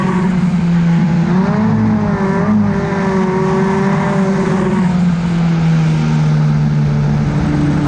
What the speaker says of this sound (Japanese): 8コーナーで佐藤選手グッと来てますね